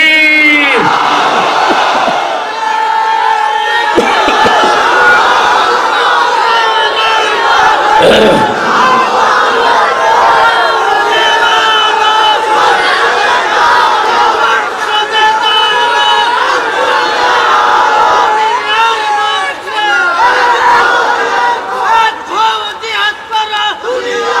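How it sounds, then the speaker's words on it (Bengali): A large crowd at a rally roars the takbir chant, Allahu Akbar, loud and sustained with overlapping voices and shouts throughout. "এখন তাকবীর হবে, লিল্লাহে তাকবীর।"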